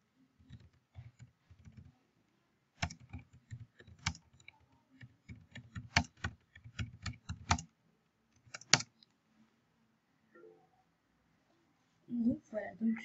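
Computer keyboard typing comes in close, irregular bursts of crisp clicks separated by pauses, fairly quiet, and a voice speaks briefly near the end.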